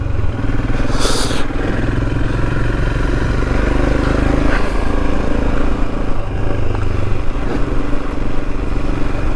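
Royal Enfield Himalayan motorcycle riding along a country lane, a steady loud engine drone with a brief clunk and stumble from a missed gear change, continuous throughout with wind noise.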